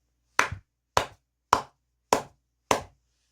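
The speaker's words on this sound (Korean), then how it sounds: "크게 박수 한번 치고 가도록 하겠습니다" Five single hand claps, sharp and evenly spaced about half a second apart, close and clear against silence.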